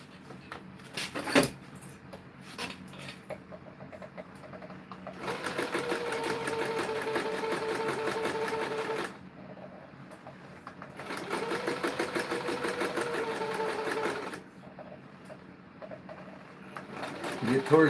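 A sewing machine stitches in two sustained runs of steady, rapid mechanical whirring, each several seconds long, separated by a short pause. Someone is stitching cord for EDC bracelets and hanks, with brief handling noises and faint talk between the runs.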